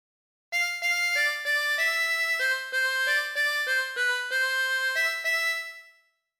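A 24-hole tremolo harmonica plays a phrase of Ampar Ampar Pisang: about a dozen distinct reedy notes in a steady rhythm, each with a wavering tremolo shimmer, heard close and alone before fading out.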